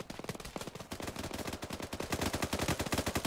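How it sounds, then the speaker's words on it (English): Dense automatic gunfire in the ARMA 3 video game, a long run of rapid, overlapping shots that grows louder and more steady toward the end, with no talking. "you are shooting dangerously close to that man"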